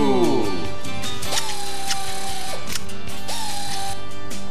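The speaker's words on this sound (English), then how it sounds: "With the ratchet, even the toughest jobs are easy." Mastercraft air ratchet running in loud, rapid mechanical clicking bursts, with a brief whirring start and two sustained tonal runs, close and prominent over a faint background.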